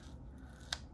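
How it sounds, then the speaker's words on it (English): A single short snip of scissors cutting paper or sticker material while setting up a planner, crisp and close against a quiet room. "try to hold it, and cut"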